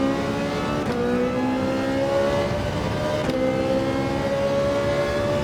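A Ferrari 458 race car in a racing video game accelerates out of a corner, its engine note climbing steadily through the gears with a clear shift partway through, loud and continuous with no talk.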